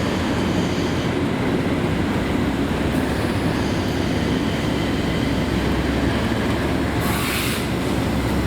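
Class 37 locomotive 37884 hauls unit 318269 out of the works in Scotland on a windy day, producing a loud, continuous diesel rumble with rolling wheel noise and wind buffeting throughout.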